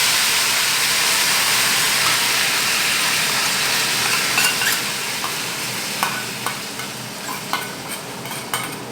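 Food sizzling loudly in hot oil with a steady dense hiss that gradually eases, broken by occasional stirring clicks and pops, with no voices.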